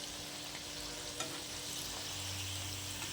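Cassava susiyam frying in hot oil, a steady, dense sizzle and bubbling that holds evenly throughout with no voices.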